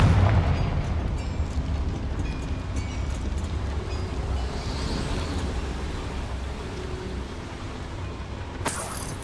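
A Confringo fire spell bursts in a mine in Hogwarts Legacy, a loud, sustained rumbling roar that fills the whole stretch, with a sharper crack near the end.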